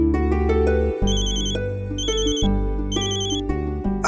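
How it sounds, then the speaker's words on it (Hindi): A phone ringtone plays loudly and close by, a repeating electronic melody with bright chiming tones that cycles several times without a break and with no voices over it. "अब फोन किसका आ गया?"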